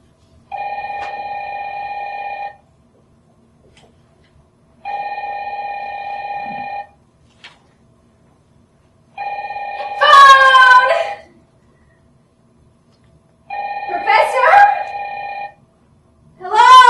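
A telephone rings repeatedly in steady two-second bursts separated by pauses, while a dog howls over the later rings.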